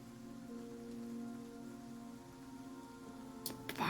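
Steady rain patters on a surface throughout, a soft continuous hiss with a low sustained tone beneath it and a couple of sharper ticks near the end.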